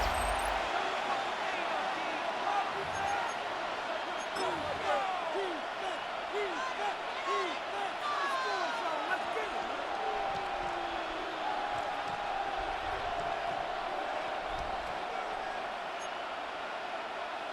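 Stadium crowd in the video game Madden NFL 26, a steady roar of spectators filling the background throughout, with a commentator talking over it as a third-down play approaches.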